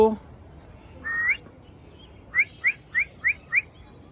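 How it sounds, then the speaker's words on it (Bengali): A pet talking bird on a rooftop gives one rising whistled call, then five quick, evenly spaced chirps, close and clear over faint background noise. "তুমি তো বলে কথা বলা শিখছো মিঠু"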